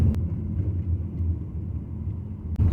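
Steady low rumble from inside a Nissan Rogue 2.5 AWD being driven smoothly after a power-loss fault, with even road and engine drone and brief clicks at the start and end.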